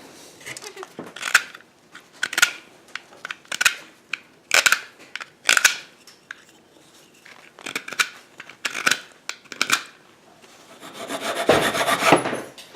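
A 1.5 inch Ridgid foam board is cut by hand in repeated rasping, rubbing strokes, close and fairly loud, ending with a longer scraping stretch.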